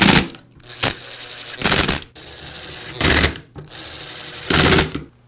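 A powered driver runs screws into the clamshell half of a DeWALT drill during a motor and pinion repair, making five short, loud whirring bursts separated by quieter pauses.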